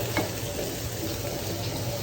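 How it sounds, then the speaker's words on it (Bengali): Fried hilsa fish sits in a pan as a little water is added, giving a loud, steady hiss and sizzle with no talking. "ভেজে নিয়েছি আর এখন জল দিয়ে দেবো, অল্পই দিব জল"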